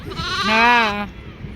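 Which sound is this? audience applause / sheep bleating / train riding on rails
sheep bleating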